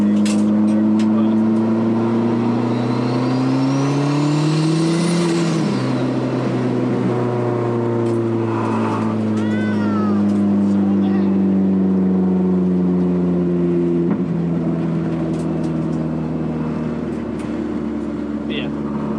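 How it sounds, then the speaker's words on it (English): Honda Integra exhaust while driving, a sustained engine drone that rises in pitch as it accelerates, then settles and holds steady, loud and close from inside the car, with someone talking over it. "Sorry, reverberance of the exhaust right there."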